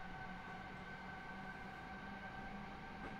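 An S-Bahn commuter train on the Munich line toward Tutzing gives a steady, loud, continuous rumble and drone with faint high tones, heard from inside and unbroken throughout.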